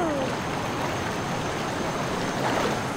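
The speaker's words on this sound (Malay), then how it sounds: "Air terlalu laju." Fast-flowing river water rushes in a steady, dense wash of broadband noise, loud and continuous throughout with no pauses.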